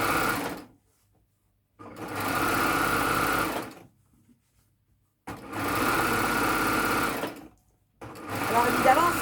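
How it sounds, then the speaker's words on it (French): Overlocker serging a trouser seam, a loud even buzzing run repeated in three bursts separated by silent pauses. "Donc, j'utilise et je vais surjeter la couture."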